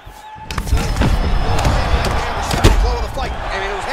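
Arena crowd roaring and cheering during a UFC 4 fight, a dense loud wall of noise punctuated by heavy thuds and slams, with a commentator's voice mixed underneath.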